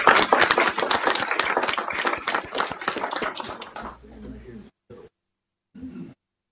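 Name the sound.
round of applause at a city council meeting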